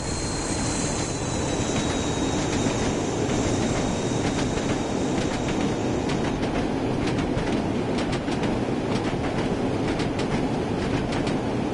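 A simulated train from Train Sim World rolls along with a continuous broadband rumble and rail clatter, steady and close throughout, with a faint high whine early on and rhythmic clicks later.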